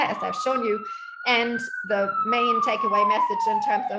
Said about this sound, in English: sorry for the siren, it's New York City.